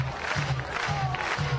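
A softball crowd at an OU vs Mississippi State game cheers and roars in a steady wash of noise, broken by repeated rhythmic stomping or clapping thumps.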